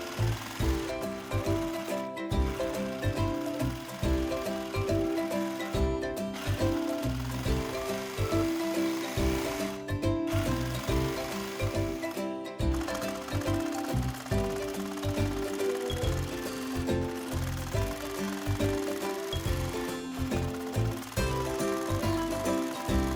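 A serger overlocking the fabric edges of zipper pouch panels: a continuous, fast mechanical chatter with a steady stitching rhythm, close and fairly loud, with a few brief pauses between seams and no talking.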